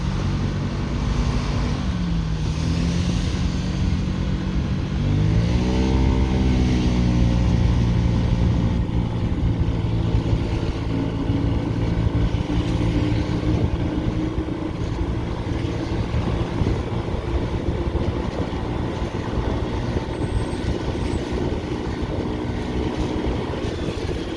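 A Honda Tact AF75-79 fuel-injected scooter engine runs steadily at close range, a continuous drone that swells in pitch around a throttle blip and then settles again.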